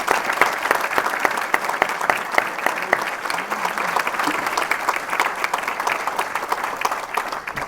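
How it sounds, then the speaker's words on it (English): Graduating seniors and guests at a school commencement ceremony applaud in dense, close clapping, with distinct individual claps standing out against the steady crowd wash throughout. "Seniors, will you please join me in a round of applause and appreciation for the people in your life who supported you to this day."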